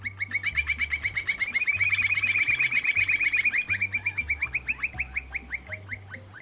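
A campo flicker woodpecker calls in a long, rapid series of loud repeated notes, steady and close, with a low background hum underneath.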